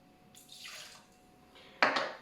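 One ounce of Torres 10 Spanish brandy poured into a glass or jigger, giving a short liquid trickle followed by a brighter, sharper splash near the end; close and fairly quiet, with no talking.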